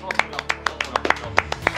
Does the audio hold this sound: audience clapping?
yes